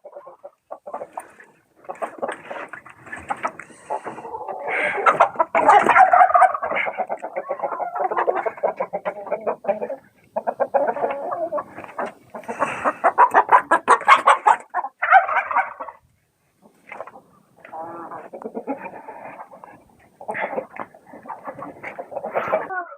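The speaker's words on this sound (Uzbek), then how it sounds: "Endi tovuqlarni bitta tashqariga chiqarib ham sizlarga hozir ko'rsatib beraman" A flock of Australorp and Romanian laying hens clucks and squawks close by, dense overlapping calls coming in bursts with short gaps, loud and busy throughout.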